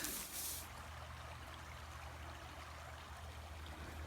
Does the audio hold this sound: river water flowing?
yes